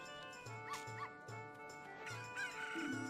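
A chicken in The Legend of Zelda: Ocarina of Time gives a few soft, repeated game clucks over steady background music and ambient game sounds.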